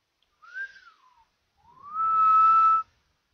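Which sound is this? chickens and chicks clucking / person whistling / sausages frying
person whistling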